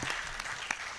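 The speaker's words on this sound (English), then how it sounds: "Please clap for him." A brief burst of audience clapping at an annual conference, moderately quiet and even, with a few sharper individual claps standing out.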